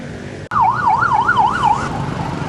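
Ambulance siren on a road on Koh Lanta, Thailand, wailing loud and close in a fast rising-and-falling sweep over steady traffic noise.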